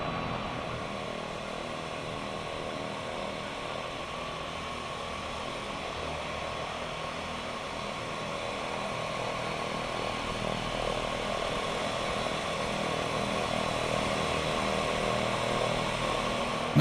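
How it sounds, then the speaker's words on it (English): Steady droning whine of a turboprop plane's twin PT6 engines in beta mode while taxiing to a general aviation ramp in the X-Plane 10 flight simulator, loud, continuous and slightly rising toward the end. "just kind of throw it back into the beta mode here with these PT6s. And taxi into the ramp, nice and smooth"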